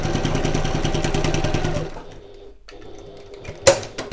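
A sewing machine runs fast and steady while stitching a satchel, then stops and falls quiet, with a sharp click and some handling noise near the end.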